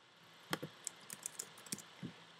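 Typing on a computer keyboard in a quiet room: a short, irregular burst of crisp key clicks, close and fairly soft, with no talking.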